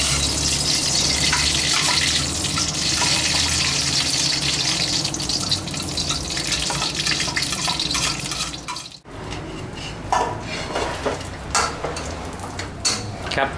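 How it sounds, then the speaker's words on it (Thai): Crispy pork fries in oil in a pan, a close, continuous crackling sizzle that runs steadily, then turns quieter and more sputtering after a brief break. "ใส่น้ำมันลงไปนะครับเดี๋ยวเราจะเอาหมูกรอบมาเจียวก่อน"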